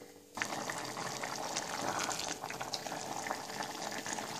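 Bottle gourd with turmeric and salt boils in water in a cooking pot, giving a steady close bubbling hiss that starts abruptly and runs on unbroken, with no talk.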